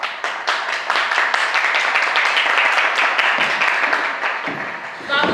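A crowd at a stage play applauds after a speech, a steady wash of many hands clapping at moderate loudness, with some voices and a brief vocal sound near the end.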